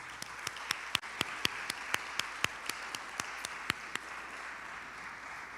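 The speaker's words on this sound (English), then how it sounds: "Let's clap for yourselves." Scattered, fairly faint applause from a school audience at a National Junior Honor Society induction ceremony, individual claps landing in an uneven, steady run that thins out near the end.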